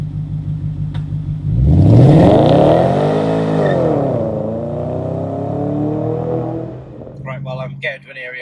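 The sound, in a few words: high mileage V8 car engine revving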